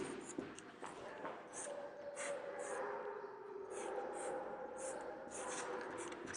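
Handwritten chemical compounds go down in faint, repeated scratchy strokes, short and rhythmic, over a low room hum with some quiet talking.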